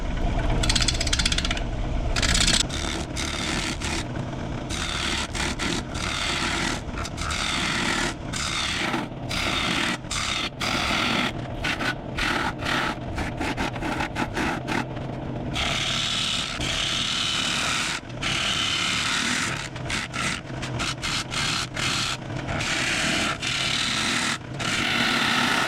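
Firewood spinning on a wood lathe at 800 RPM gives a loud, steady rasping scrape as the tool cuts. Sharp chattering ticks break in all through it, with no voices heard.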